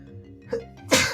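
One person sneezes loudly and close by after a quiet intake of breath, with a small trailing burst at the end.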